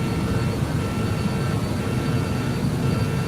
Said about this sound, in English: And now the engines are starting.